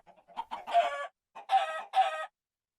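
Minecraft chickens cluck in the game after being hit: several short sputtering cackles, then two louder bursts with a brief gap between them, heard alone with no talk.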